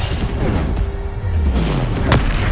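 A Bombarda spell explosion in the video game Hogwarts Legacy, heard as a deep, loud boom rumbling under continuous game noise, with a second thump near the end.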